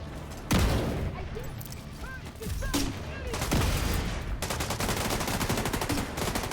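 Gunfire and explosions from the video game The Division 2, with a thrown grenade going off among sustained bursts of automatic fire; sharp broadband blasts around one and three and a half seconds, then dense rapid shooting continuing to the end.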